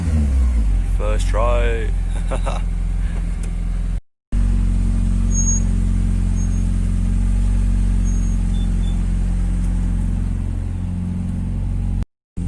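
An old Honda Mk1+ car engine starting up and running, with a strong low rumble and a short whining crank at the start, then a steady loud idle, and someone speaking briefly over it early on.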